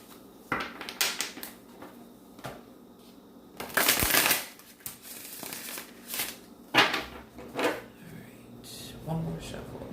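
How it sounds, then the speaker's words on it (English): Tarot cards are shuffled by hand in several quick riffling bursts, close and crisp, with one louder extended shuffle in the middle and lighter taps and handling sounds between. "One more shuffle."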